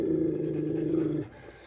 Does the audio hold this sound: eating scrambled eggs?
no